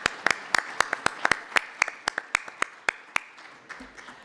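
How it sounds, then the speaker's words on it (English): Scattered hand claps from a small audience at an instructor appreciation brunch, a couple of dozen sharp, uneven claps close by that thin out and stop after about four seconds. "oh yeah, let's clap."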